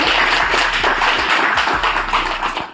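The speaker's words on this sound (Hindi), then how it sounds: "एक बार जोरदार तालियां हो जाए" Loud audience clapping at a district education office retirement ceremony, a dense burst of hand claps filling the hall, steady and close, with no talk over it.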